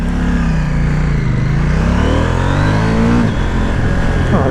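A KTM 790 Duke motorcycle engine revs loudly up close, climbing in pitch before a sharp quick-shifter upshift drops the revs, then it pulls again, with steady engine roar throughout and no talking.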